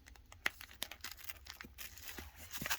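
Stuck-together pages of a collected comic book are peeled apart, giving a run of close, soft tearing and crinkling paper sounds with small irregular snaps. No one speaks.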